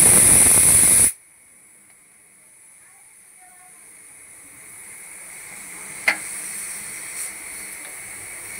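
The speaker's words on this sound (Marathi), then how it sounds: "बटाट्याच्या शिट्या होत आहेत" A pressure cooker boiling potatoes lets out a loud, shrill steam whistle at close range. It cuts off abruptly after about a second, leaving a quiet kitchen with faint hiss and a couple of small clicks.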